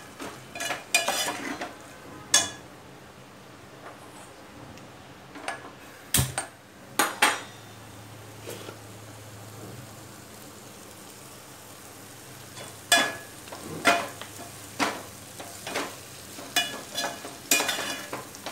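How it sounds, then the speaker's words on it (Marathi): A metal spoon stirs garam masala into vegetables in a pan for veg pulao, giving sharp scraping clinks and taps at irregular intervals over a low, quiet background hiss. "चमचाभर टाकायचा गरम मसाला, मिक्स करून घ्यायचं।"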